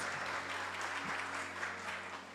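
Audience applause at a symposium, a steady wash of many hands clapping at moderate volume, sustained without pause.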